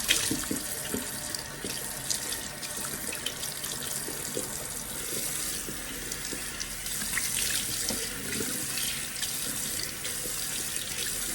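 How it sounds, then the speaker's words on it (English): Tap water runs steadily into a bathroom sink while a face is rinsed of cleansing suds, a constant close splashing hiss with small irregular splatters and no talking. "as soon as the water hits my face, like it's gonna be so much suds and it actually takes a while to get off"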